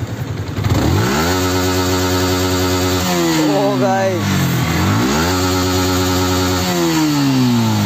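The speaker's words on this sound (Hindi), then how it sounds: "उसके बाद एग्जॉस्ट नॉट इसका भी सुनी लेते हैं अपनी R15 का।" A Yamaha R15 sport motorcycle's exhaust revs up hard close by, climbing and falling in pitch through several throttle blips, with someone talking briefly over the engine.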